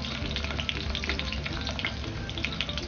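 Chopped onion fries in a pan for a Maharashtrian prawn biryani (kolambi bhaat), a steady, dense sizzle that holds without pause throughout, with no voices.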